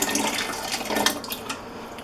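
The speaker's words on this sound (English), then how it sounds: "I'm just gonna put a little bit of water in here" Water pours steadily into a pot of soup in a home kitchen, a continuous splashing stream running close and fairly loud for about two seconds with no talking.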